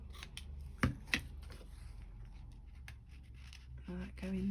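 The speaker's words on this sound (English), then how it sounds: "let's just trim off these edges just to bring it down in size enough to fit into that pocket" Scissors snip the edges off a paper journal card, two sharp close cuts followed by quieter rustling, with a voice speaking faintly in the background near the end.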